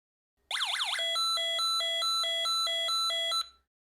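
A Snap Circuits electronic kit plays its fourth alarm sound: a short warbling electronic tone, then a steady on-off beeping pattern of two alternating pitches repeated about eight times, loud and close, with no voices.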